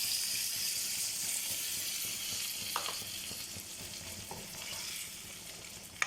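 Tamarind water hits okra frying in oil for a Tamil vendakkai puli kuzhambu, giving a steady bright hiss and sizzle with a few soft scrapes of a spoon stirring the pan, close and continuous.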